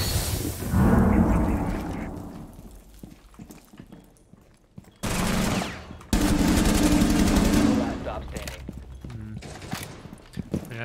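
Gunfire from the video game Rainbow Six Siege comes in several separated bursts with quiet gaps between them, and voices speak over part of the action.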